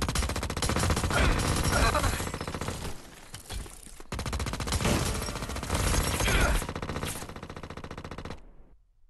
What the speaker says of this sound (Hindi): और ये गेम याद रखना, वी फ्यूरी सबसे बढ़िया गन है,